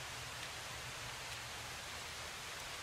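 Steady rain falls in the Project Zomboid video game, an even hissing wash of drops that stays constant throughout, with no voices over it.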